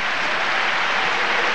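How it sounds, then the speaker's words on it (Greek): Basketball arena crowd at an Olympiacos–AEK game applauding an injured player as he is helped off the court: dense, steady clapping that fills the whole moment, loud and continuous with no pause. "Σηκώνει το Ηλιαξέδα και χειροκροτεί τον Βασιλιάδη που αποχωρεί"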